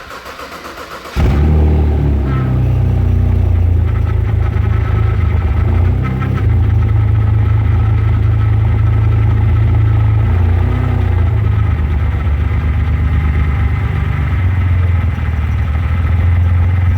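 A car engine cranks and catches after a second of quiet, then settles into a loud, steady idle with a deep exhaust rumble that runs on unchanged to the end.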